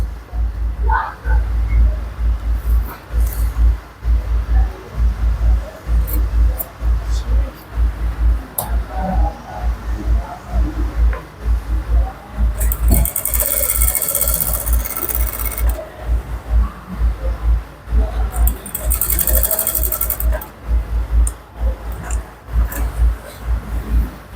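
An electric sewing machine stitches down the pocket seams of Ankara-fabric pants in a fast, steady mechanical whir, running in repeated bursts with brief pauses, with louder stretches midway and near the end.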